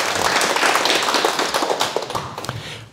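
A small audience claps together in a short burst of dense, lively hand claps that starts full and thins out as it fades toward the end.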